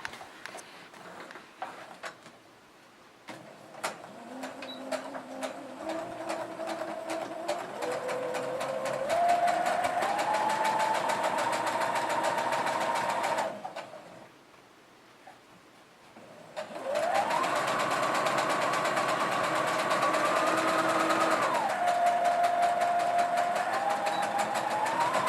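A sewing machine stitching a cross body bag runs in two long bursts of rapid mechanical whirring that rises in speed, separated by a short quiet pause, heard close up.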